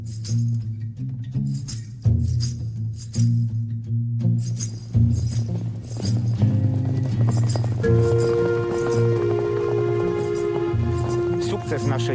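Horses' hooves clip-clop in rhythmic bursts at a state Arabian horse stud, heard beneath talking, with music swelling in toward the end.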